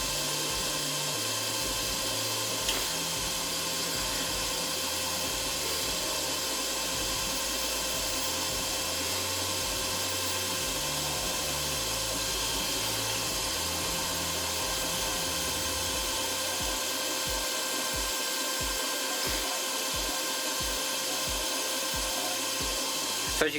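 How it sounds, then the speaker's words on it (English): A lathe gouge scrapes an acrylic slimline pen blank while it spins. The result is a steady whirring hum with a continuous cutting hiss that runs evenly throughout without pauses or speech. "you can push the top of the gouge up against here and just run it round gently, and you'll see that you can get some really nice shavings"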